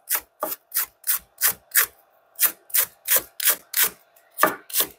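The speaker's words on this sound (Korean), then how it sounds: "곱게 채 썰어 볼게요." A knife finely julienning rolled food on a cutting board, about fourteen quick, crisp strokes in a steady rhythm, close and clear with no voices.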